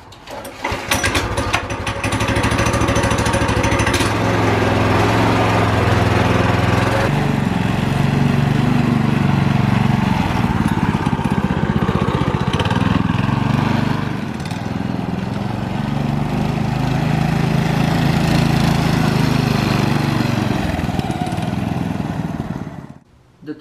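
A small mini bike engine runs loudly and close for over twenty seconds after a throttle cable install, a rough buzzing drone with slight rises and falls in revs and no talk over it.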